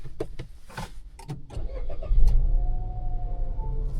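A 2026 Nissan Magnite turbo with CVT starting up: clicks and shuffling give way to the engine cranking and catching, then settling into a steady, close idle hum, with no speech.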